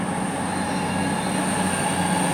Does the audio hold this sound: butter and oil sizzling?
no